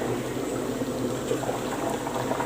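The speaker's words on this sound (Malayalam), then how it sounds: "ഇപ്പം നമ്മുടെ കൊള്ളി ഇവിടെ നന്നായിട്ട് തിളച്ചിട്ടുണ്ട്." Tapioca boils in a pot of water, a steady close bubbling and rolling simmer that stays even throughout, with no voices.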